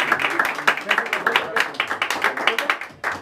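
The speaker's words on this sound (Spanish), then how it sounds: "Un aplauso bien fuerte." Guests clapping at a birthday party with mariachi music, a steady run of quick, close handclaps, brief and lively, with a short pause before a final burst.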